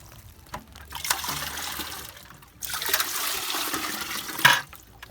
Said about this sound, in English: Then we'll go ahead and pour it into a second bucket.